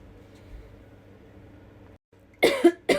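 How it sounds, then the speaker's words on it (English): Two or three sharp, close coughs burst out near the end after a quiet stretch of low room hum. "I'm like really trying to get over this coughing fit"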